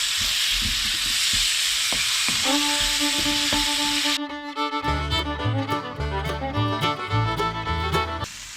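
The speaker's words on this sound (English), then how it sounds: "I'm going to give it a good mix." Egg puff filling with ground pepper and salt stirred in a hot pan gives a steady sizzle and hiss, then clicks and scrapes of the spoon against the pan, while a faint tune plays under the second half.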